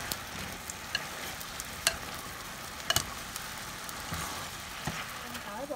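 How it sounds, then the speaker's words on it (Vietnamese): Water and sugar being stirred together in a pan to make caramel for Vietnamese braised pork belly, a steady soft scraping and sizzling with a few sharp clicks of the spoon against the pan, close and moderately quiet. "Nước vô nó mình trộn lên cho đường nè."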